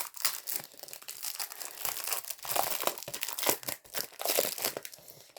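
Thick, good-quality scrapbooking paper crinkling and rustling up close, a loud, continuous stream of crackles and handling noises with short pauses.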